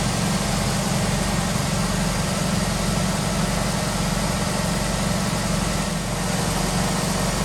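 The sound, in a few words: Chevrolet Cavalier engine started and idling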